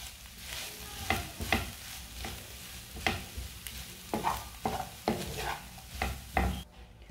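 A spoon scraping and stirring mashed boiled potato filling in a pan for samosas, with repeated clunks against the pan over a soft steady sizzle.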